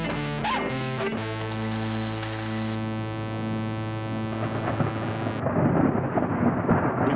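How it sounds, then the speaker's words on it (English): Low, rolling rumble of thunder building in the distance beneath a steady droning hum, growing louder and rougher toward the end. "Is that thunder?"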